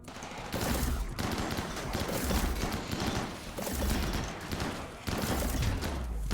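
Rapid gunfire bursts from the video game Rimworld Odyssey, loud and dense, in several long volleys separated by brief pauses, with no talk over them.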